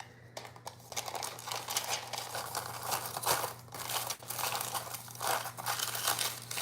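Hair-colouring foils crinkle and rustle steadily close by, with an ongoing dense crackling texture over a low background hum.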